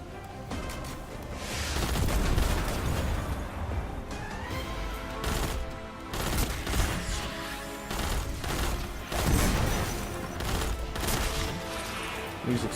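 Destiny 2 combat, with rapid bursts of gunfire and heavy booming explosions overlapping in dense, loud clusters. Sharp crashes punctuate the sustained battle noise throughout.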